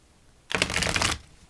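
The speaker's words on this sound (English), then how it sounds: "2 shuffles, 2 more shuffles," Tarot cards are shuffled once in a quick riffle, a dense fluttering burst lasting about half a second, close and clear against near silence.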